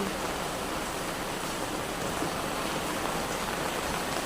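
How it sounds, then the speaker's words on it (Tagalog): Steady rain falls on plants, a dense, even hiss of drops that never lets up over a few seconds. "Naulan na rin sa wakas. Naulan na ang ating halaman."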